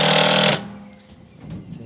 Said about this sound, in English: I'm just screwing these in.